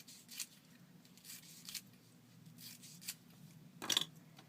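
Scissors snipping paper for a craft project, a few quiet crisp cuts spaced apart over a soft room background, with one sharper, louder snip near the end.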